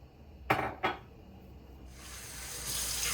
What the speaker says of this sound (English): Okay, I'm washing my split peas.